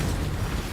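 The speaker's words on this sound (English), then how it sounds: "Wow, those are explosions. Do not stand in those." Explosions in the action RPG Path of Exile rumble in a dense, continuous low roar with no clear gaps between blasts, heavy and steady throughout, with no voices.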